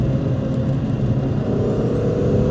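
A 2025 Lotus Emira i4 with its AMG four-cylinder engine, tuned to 420 horsepower in the AMG A45S, gives a steady loud drone heard from close range, holding even with a slight rise in pitch toward the end.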